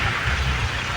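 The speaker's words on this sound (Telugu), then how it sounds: "వాన అయితే గట్టిగా కొడుతుంది" Heavy rain pours down steadily and close by, a dense unbroken wash of noise with a low rumble underneath throughout the short stretch.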